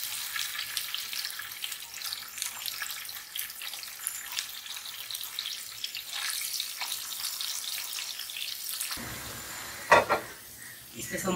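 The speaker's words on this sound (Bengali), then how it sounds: "তো সেই জন্যই আমরা প্রথমে তেল দিয়ে দিলাম, তারপর পেঁয়াজ দিয়ে দিলাম" Onions fry in oil for a bhuna khichuri, a steady close sizzle with stirring, then a running tap and splashing water briefly take over near the end.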